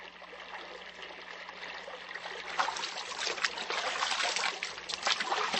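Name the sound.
stream water trickling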